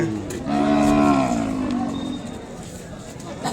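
A bovine moo rises and trails off near the start at a busy cattle market in Kodada, where Ongole bulls and calves are traded. People talk close by throughout.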